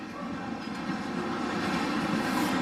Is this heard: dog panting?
no